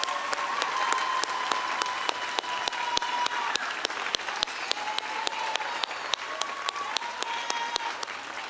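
An audience at a 4-H band performance claps in steady, sustained applause, a dense wash of hand claps with sharper individual claps standing out, with no voices over it.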